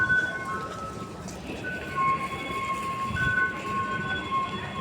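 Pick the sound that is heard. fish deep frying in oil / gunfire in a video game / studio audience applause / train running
train running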